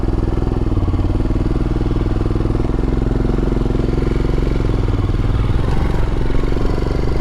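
A Royal Enfield Himalayan motorcycle pulls away, its single-cylinder engine giving a steady loud chugging rumble with some mechanical clatter throughout, close by and alone, with no talking.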